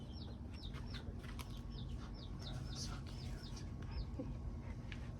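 Young chicks in a backyard flock give repeated high, quick peeping chirps, fairly close and steady over a constant low background hum.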